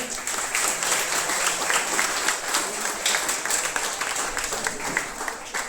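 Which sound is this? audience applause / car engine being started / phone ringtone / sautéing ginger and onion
audience applause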